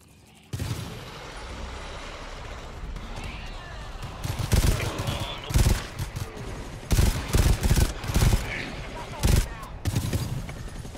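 Video game gunfire crackles in loud, rapid bursts, with quieter stretches between volleys and voices talking over the shooting.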